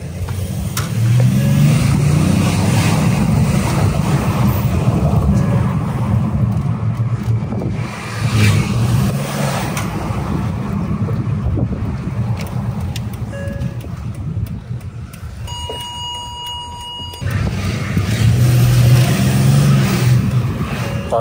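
A Mercedes S350 CDI V6, recently faulty, accelerates on a road test drive heard from inside, a low engine rumble with wind noise that surges, eases off through a quieter stretch with chimes, then pulls hard again.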